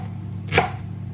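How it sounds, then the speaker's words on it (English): A knife makes a single crisp, close chop through an onion, dicing it into small cubes on a board in a home kitchen, with a low steady hum underneath. "I'm just going to do the same with the onion. Get that into nice little cubes"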